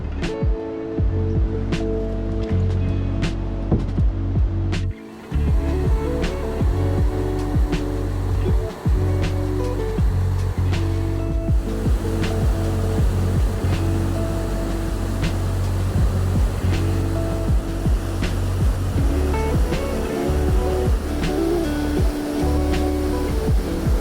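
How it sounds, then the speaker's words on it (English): A waterfall tucked in the woods near a portage at the end of Dudney in Temagami, heard as a steady, full roar of falling water that stays constant and fairly loud throughout. "there is just this beautiful waterfall ahead,"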